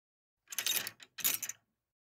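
A key rattles and turns in a door lock, then the door clicks open on a quiet rainy night, two short bursts of close metallic jingling and clacking with a brief pause between them.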